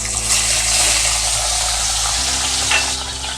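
Raw prawns sizzling steadily in hot oil as they are added to the pan for a prawn and chicken dish, with a dense continuous fry and some stirring, close and fairly loud, no talking.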